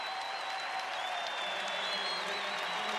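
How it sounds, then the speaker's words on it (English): A basketball arena crowd roaring and cheering in a loud, sustained wash of noise that stays dense and even from start to finish. "you can see and hear that crowd roaring right now for Jordair Jet."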